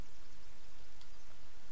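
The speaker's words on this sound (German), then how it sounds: "Natürlich regnet es auch erstmal wieder fett." Heavy rain pours in the survival game The Forest as a dense, even hiss, loud and unbroken for a couple of seconds with no voices.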